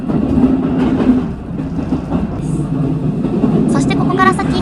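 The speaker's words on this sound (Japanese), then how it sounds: "軽快なレールジョイント音を響かせて木津駅に到着しました。" Train wheels clack rhythmically over rail joints in a steady clickety-clack, heard from inside a moving JR Yamatoji Rapid carriage on the Kansai Main Line arriving at Kizu Station, with a brief high squeal toward the end.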